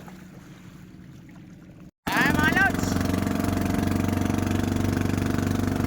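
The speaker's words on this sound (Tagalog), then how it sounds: "tayo dito sa bangka natin at alis na tayo" A fishing boat engine starts up and runs loud and steady nearby after a quieter opening, with someone talking briefly over it, heading out to sea for squid.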